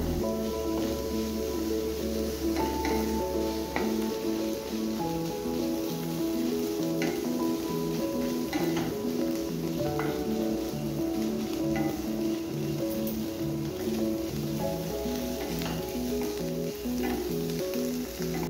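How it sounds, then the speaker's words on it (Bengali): Onions frying and being stirred in a pan for orange chicken, a steady loud sizzle running throughout with scraping stir strokes and faint clinks, no voices. "দিয়ে ভালোভাবে আমি পেঁয়াজটা নাড়াচাড়া করতে থাকবো"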